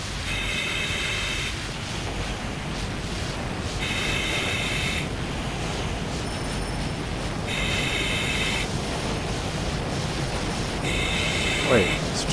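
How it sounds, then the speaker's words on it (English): Subway train running through a tunnel in GTA 5 during a firefighting call: a continuous roaring rumble with a high, tonal beep that repeats every couple of seconds and a brief squeal near the end. "Train's running?"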